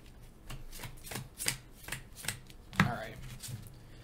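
Cards from a Marvel Legendary deck-building game are shuffled by hand at close range, a run of quick crisp riffling bursts with one sharper slap near the end, and no talking over it.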